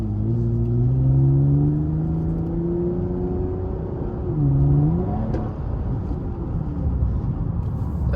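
A Toyota Camry TRD with 100K miles drives along, its engine giving a steady low rumble with rising and falling revs, close and continuous throughout.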